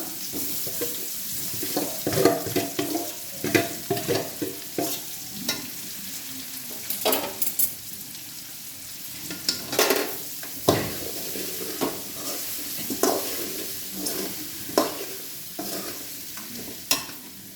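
Masala-coated hog plums sizzle in hot oil for a pickle while a spoon stirs and scrapes the pan in irregular bursts. The close clatter rises and falls over a soft, constant frying hiss, with no one speaking.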